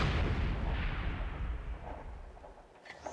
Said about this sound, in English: I also had a white phosphorus barrage come from this guy